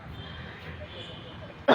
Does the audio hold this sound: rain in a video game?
no